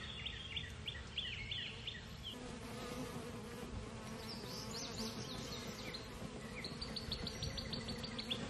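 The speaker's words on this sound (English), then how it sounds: "I keep having to move around in the yard because there's so many bees out here." Honey bees buzz continuously around a backyard during honey straining, a dense close swarm hum with individual insects zipping past, while faint bird chirps sound in the background.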